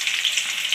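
Onions for a radish and potato dish fry in a pan with a loud, close, hissing sizzle over a very brief moment.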